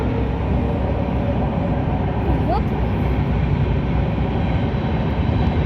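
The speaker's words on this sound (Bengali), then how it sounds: "ওই যে গাইস ট্রেন যাচ্ছে।" A train passing along the line nearby, a loud continuous rumble and rush filling the whole stretch, with people talking over it.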